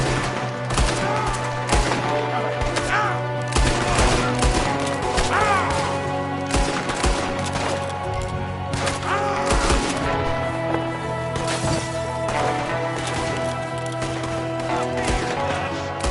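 Constant gunfire in a Red Dead Redemption 2 shootout, with shots cracking over a steady hum of game music and ambience, the clusters of reports spread across the whole stretch.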